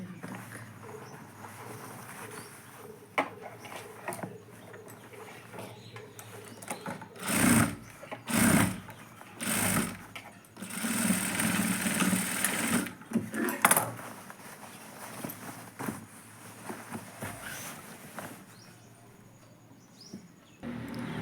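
A sewing machine stitches the collar of a kurti in short bursts, with a quiet stretch before a cluster of close rattling runs in the middle, then quieter handling noise.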